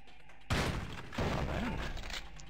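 A shotgun blast in a video game booms out abruptly after a brief quiet, followed by a second heavy crash and rumbling debris, with a voice briefly heard over it.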